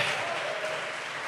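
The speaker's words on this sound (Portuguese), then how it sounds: "dê para Deus uma salva de palmas para a sua palavra, uma linda salva de palmas" A church congregation applauds for God during a Portuguese-language service, a brief wash of dense, fairly distant clapping that holds evenly for just over a second.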